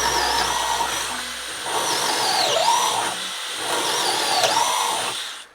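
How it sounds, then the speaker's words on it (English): A 12V hammer drill bores three consecutive holes with a 1/2 inch Spider twist bit, each burst a loud, close whine that rises and dips in pitch as the bit bites, with brief pauses between holes. "first we're going to do 3 consecutive holes, hopefully without stopping, with a 1/2 inch twist bit from Spider"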